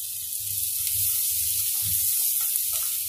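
Chopped onions and green chillies sautéing in ghee in a pan, a continuous bright sizzle with soft low bubbling pops underneath, close and steady with no talk.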